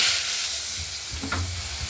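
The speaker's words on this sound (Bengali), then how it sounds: "মাছগুলো আমরা প্রথমেই ভেজে নেব।" Katla fish, rubbed with salt and turmeric, sizzles in hot oil in a wok, a steady close hiss with soft bubbling and a few brief clatters, no talking.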